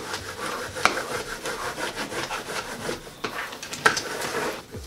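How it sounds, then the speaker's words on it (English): A small plastic squeegee scrapes and rubs firmly over a stencil on a wooden farmhouse sign, giving close, continuous rasping strokes with a few sharper scuffs. "I'm gonna squeegee it down nice and tight."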